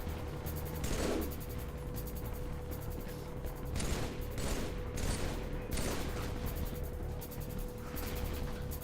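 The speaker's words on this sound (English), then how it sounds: "Battle rifle's surprisingly good against the Flood." Battle rifle fire in the Halo video game during a fight against the Flood, with repeated sharp shot bursts over a dense, constant wash of combat noise and no talking.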